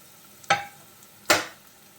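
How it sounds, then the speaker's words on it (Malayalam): Vegetables with two colours of capsicum tossed into a hot pan for noodles, two short bursts of loud sizzle and stirring scrape, each fading quickly. "അതും കൂടി ഇട്ട് ഒന്ന് വഴറ്റി കൊടുക്കാം"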